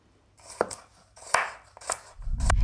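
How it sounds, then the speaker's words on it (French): Peeled carrots are diced into small cubes on a cutting board with a knife, a handful of sharp, separate chops spaced irregularly, close and crisp, ending in a rougher clatter, with no voices. "Les carottes, on les pèle et on va les découper en petits cubes."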